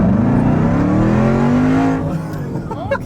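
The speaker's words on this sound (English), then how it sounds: "we'll do one last pull here in the Livernois built TRACKHAWK." A Livernois-built 1000 hp Jeep Trackhawk roars hard through a full-throttle pull, its engine note climbing steadily and loudly before cutting off as the run ends.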